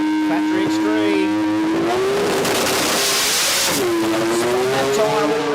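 A rotary-engined drag car in the Factory Extreme class at a sports compact drag meet, loud and close, its engine note rising and dipping steadily with a rough surge midway, an announcer talking over it.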